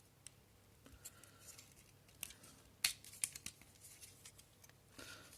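A paper model is folded and pegged together up close, with soft creases, crinkles and sharp paper snaps scattered irregularly over a quiet background.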